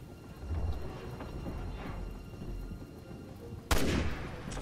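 Resident Evil 6 game audio: a low rumbling ambient backdrop with soft muffled thuds, then one sudden sharp gunshot blast near the end followed by a reverberating tail.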